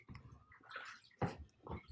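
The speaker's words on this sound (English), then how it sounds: "So you get the screen wet first," Paper-making screen dipped and wetted in a tub of clear water, a few quiet sloshes and splashes, faint and close, with no talk.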